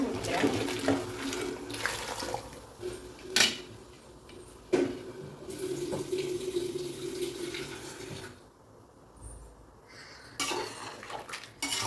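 Hot water poured into a pot of seeraga samba chicken biryani, a rushing splash mixed with clanking pots and utensils, loud and close, broken by sharp metallic knocks, with a brief quiet gap before the clatter resumes.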